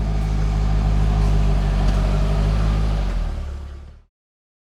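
A rebuilt C5 Corvette drives out on the road, a loud, close engine drone with road rumble that holds steady for about three seconds, then fades and cuts to silence.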